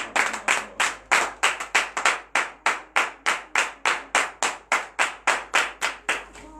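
A church congregation at morning prayer claps in unison in joyful acclamation, roughly eighteen sharp, evenly spaced claps in a steady rhythm, close and distinct, with no talking.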